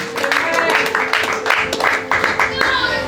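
A church congregation clapping along for Jesus at a relationship and marriage seminar, rhythmic hand claps in a steady beat under singing and voices.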